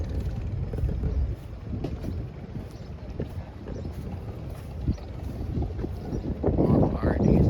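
Steam hisses from an antique steam engine at the Hart-Parr Oliver collectors' summer show in Canandaigua, New York. A steady outdoor rush with wind runs throughout, then a louder broadband hiss swells near the end, close to the microphone.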